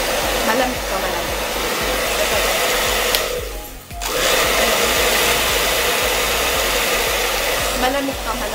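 A hair dryer runs on a mild setting and blows a loud, steady rush of air close by. It cuts out briefly partway through and then resumes at the same level.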